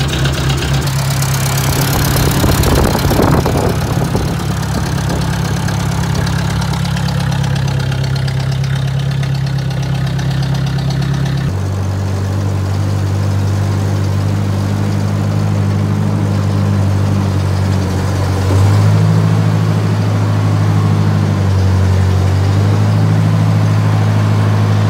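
A 600 tractor engine fires up with a rough, loud burst of cranking and catching, then settles into a heavy, steady idle close by. The engine speed shifts partway through.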